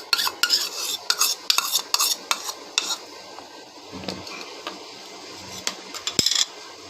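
Flour, gram flour, ghee and yeast are mixed in a bowl with a spoon, giving bursts of clinking and scraping against the bowl in an irregular rhythm, with quieter pauses between strokes. Close by and with no talking.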